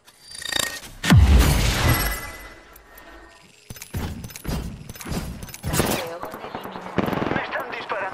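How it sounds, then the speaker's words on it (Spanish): Rapid automatic gunfire in Apex Legends, a loud close burst followed by repeated shorter volleys and scattered shots, with a voice speaking over the fighting. "Me están disparando."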